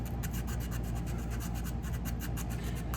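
Corrosion is scrubbed off the breaker points of a Homelite 5-30N chainsaw with a fast, even rasping rub, close and steady throughout with no talking.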